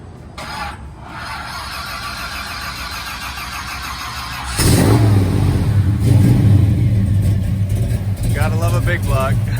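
A 1949 Chevrolet truck with a 454 big block engine cranks and fires, then settles into a loud, rumbling idle with blips of revving close by, while people talk over it.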